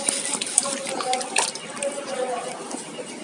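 Water from a bucket pours and splashes into a container in uneven trickles and gurgles, close and moderately loud, with a person talking over it.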